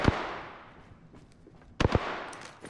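Gunfire in the battle royale game Apex Legends: a sharp shot opens, then after a lull two or three quick close cracks land near the end, with faint scattered shots between.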